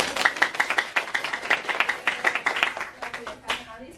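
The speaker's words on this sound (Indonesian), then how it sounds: "Kita beri aplaus dulu." A small classroom audience claps for a few seconds, a quick, fairly close patter of hands that fades out as a voice begins talking.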